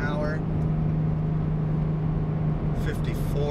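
A truck engine with a Pacbrake P59 LoadLeash engine brake at 3200 RPM in fourth gear gives a loud, steady, droning exhaust roar. The tone holds level throughout with no breaks.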